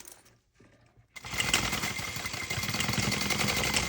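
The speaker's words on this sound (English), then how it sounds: "we're sewing around, I'm going to sew on the inside" Sewing machine stitching a tote bag, starting after a brief quiet pause and then running as a fast, steady, close-up whirring hum for the rest of the clip.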